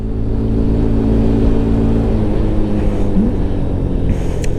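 A Honda NX190 motorcycle engine labours steadily under load climbing uphill, a low continuous drone holding near and loud throughout, with a slight rise in pitch.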